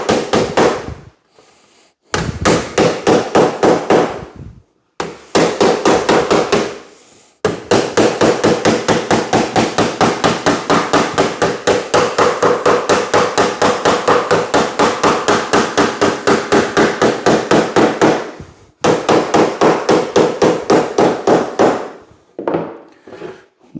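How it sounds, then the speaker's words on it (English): A hammer pounds a sheet metal seam closed on a homemade chicken processing cone, striking in fast, loud, evenly spaced runs of blows with a few short pauses between. "Once that seam is hammered together, it's pretty much done."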